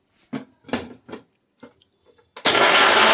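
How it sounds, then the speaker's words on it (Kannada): A kitchen mixer grinder blending grated coconut with water for coconut milk follows a few light clinks and knocks, then roars on suddenly, loud and continuous. "ಇವಾಗ ಅದಕ್ಕೆ ನೀರು ಹಾಕಿ ಮತ್ತೆ ರುಬ್ಕೋತಾ ಇದ್ದಾರೆ"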